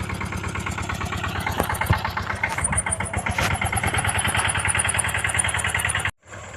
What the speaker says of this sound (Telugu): ఇవన్నీ లోపల డిప్ సిస్టమ్ బిగియడానికి ఆయన ట్రాక్టర్ దున్నుతున్నాడు అన్నమాట